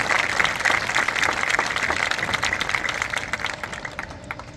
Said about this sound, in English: Can we give both administrations a big round of applause to start with?